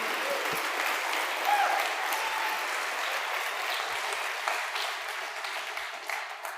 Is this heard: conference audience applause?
yes